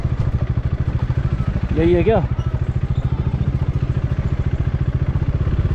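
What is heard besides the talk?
motorcycle engine idling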